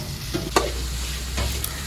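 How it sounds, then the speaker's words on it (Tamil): Garlic sautéing in a pan as the base for a mutton gravy: a steady close sizzle with soft stirring scrapes and a couple of brief clicks of the utensil, no voices. "ஸோ இது ஒரு நிமிஷம் நல்லா வதக்கி கொடுத்துட்டு வெங்காயத்தை ஆட் பண்ணிடலாம்."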